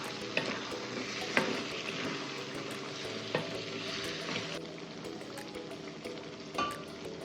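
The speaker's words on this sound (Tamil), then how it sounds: "கத்திரிக்காயை இந்த எண்ணெயோடு சேர்த்து கொஞ்சம் வதக்கி விட்டுடலாம்" Brinjal sautés in oil with a close, continuous sizzle, broken by a few sharp spoon knocks and stirring scrapes against the pan, with no voices.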